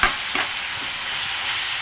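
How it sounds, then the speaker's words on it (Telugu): Onion pieces coated in turmeric being stirred in a pan, a steady close sizzle broken by a few sharp scraping strokes of the spoon. "మంచిగా పసుపు అంతా ఉల్లిపాయ ముక్కలకు పట్టేటట్టు మంచిగా కలుపుకుందాం."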